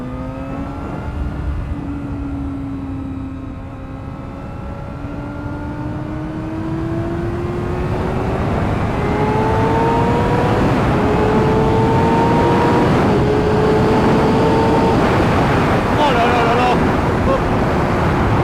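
Suzuki GSX-R motorcycle engine rising in pitch through the gears, shifting and climbing again as it accelerates, loud and close, with heavy wind rush growing over the ride.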